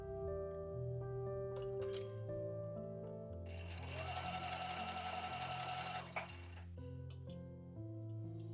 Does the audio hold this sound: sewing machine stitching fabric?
yes